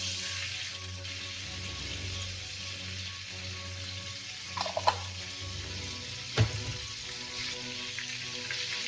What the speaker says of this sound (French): on va chauffer.